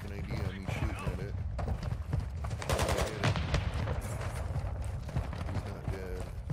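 Bursts of automatic gunfire and scattered shots in the video game Modern Warfare II, moderately loud and irregular, with a voice speaking over parts of the action.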